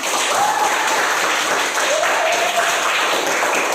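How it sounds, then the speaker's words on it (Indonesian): A classroom of students claps loudly and continuously during a teaching practice lesson, a dense, even roar of hands with a few whistle-like tones and voices surfacing briefly. "Ya, berikan tepuk tangan."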